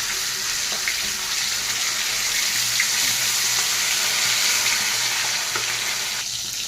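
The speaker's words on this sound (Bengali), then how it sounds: "3 পিস মাছ আমি ভেজে নিচ্ছি" Three pieces of katla fish sizzle steadily in hot oil in a pan, a dense continuous hiss and spatter with faint clinks, no voices.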